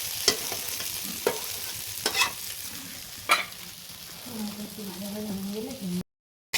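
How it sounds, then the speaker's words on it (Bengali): Potatoes with neem leaves fry in a pan while being stirred: a steady sizzle punctuated by sharp spatula clinks every second or so, with a faint voice late before the sound cuts out. "আর এটা একটু ভাজা ভাজা হয়ে যায়"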